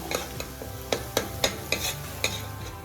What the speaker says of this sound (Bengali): এখন এইভাবে এটা আস্তে আস্তে আমি কষে নেব